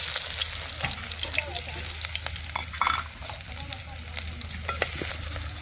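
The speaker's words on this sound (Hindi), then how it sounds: "इधर देखिए हम लोग तेल डाल दिए हैं। तो अभी मैं प्याज और मिर्च सब डालूंगी।" Onion and chillies fry in mustard oil in a pan for a village-style dish, giving a dense, steady sizzle and crackle close by. Faint stirring scrapes come through, and there is no talking.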